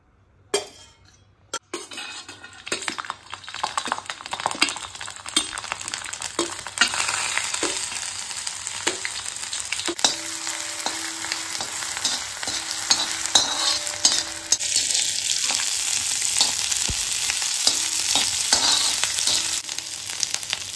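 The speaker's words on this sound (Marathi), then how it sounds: "थोडंसं तेल टाकून त्याच्यावर भाजून घ्यायचंय" Ginger, garlic and other Malvani masala ingredients roast in a little oil on a griddle, giving a steady close sizzle with frequent scraping stirs and light metallic clinks of a spatula.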